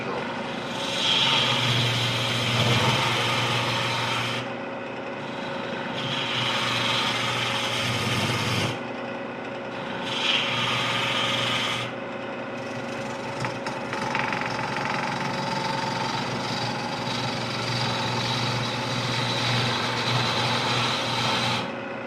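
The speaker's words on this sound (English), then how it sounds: "sticking the chisel into spinning fan blades that are twisted and irregular" A lathe chisel cutting twisted, irregular wood in eccentric multi-axis spindle turning, giving a loud, continuous whirring scrape with a fast rhythmic chatter, broken by short pauses between passes.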